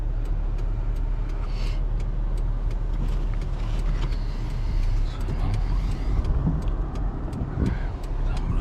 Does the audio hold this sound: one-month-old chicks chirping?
no